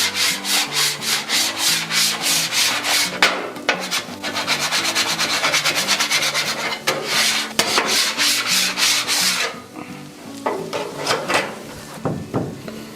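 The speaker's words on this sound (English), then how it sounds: "I'm gonna clean up this griddle for a sec." A metal scraper drags across a Blackstone griddle in quick, loud back-and-forth strokes, rough scraping repeated rapidly, then a few slower, sparser scrapes and knocks near the end, with no voices.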